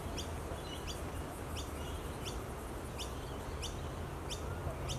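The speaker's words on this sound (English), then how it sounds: "Butcher birds very hard to spot, but you hear them all the time when you know the call." A butcher bird calls along the Cooks River, a series of short repeated chirping notes spaced about every half second, moderately distant over steady broadband background noise.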